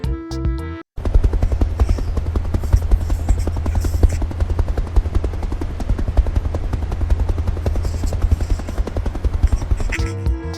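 A toy helicopter with a loud, rapid, buzzing whir of steady, fast pulses. It starts abruptly after a short break and runs continuously and close for about ten seconds.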